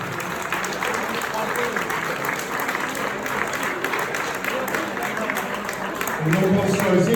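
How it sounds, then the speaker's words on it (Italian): Steady, dense applause fills a hall at a charity gala for the Venice fire brigade, holding even throughout and swelling slightly near the end as a voice rises over it. "c'è un applauso."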